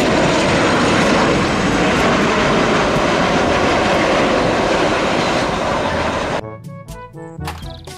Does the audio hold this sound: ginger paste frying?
no